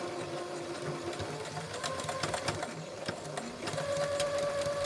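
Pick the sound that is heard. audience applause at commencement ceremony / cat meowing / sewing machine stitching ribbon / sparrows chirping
sewing machine stitching ribbon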